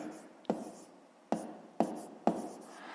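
Pen writing out a school maths exercise on paper, four distinct quick tapping strokes with soft scratching between them, close and quiet.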